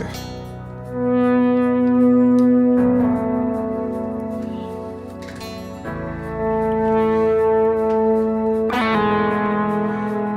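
Electric guitar played melodically on one string with slides, bends and sustained notes, run through effects with reverb and slight distortion, clear and prominent with no talking.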